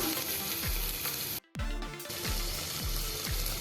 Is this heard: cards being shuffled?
no